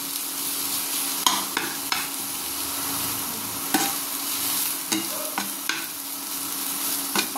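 Vegetables being stirred together in a pan give a constant frying hiss with intermittent knocks and scrapes of a spoon against the metal, heard close up with no talking.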